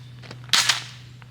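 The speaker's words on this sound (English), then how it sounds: "Seems like a pretty solid thud now on the other side." A Radical Firearms RF-15 rifle strikes gravel sideways, a single sharp crunching thud with a quick second knock, close and fairly loud over faint background hum.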